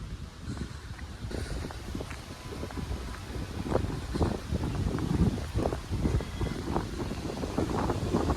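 Wind near Kiliyur Falls in Yercaud rushes and buffets the microphone steadily throughout, with low rumbling gusts and no voices.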